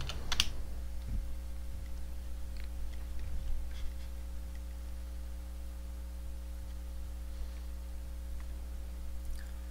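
A computer keyboard is typed on in a burst of quick, faint clicks, then lighter scattered taps over a steady electrical hum.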